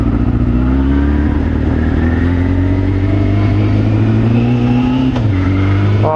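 Motorcycle engine idling steadily and rising in pitch as it revs, loud and close throughout with a brief dip near the end.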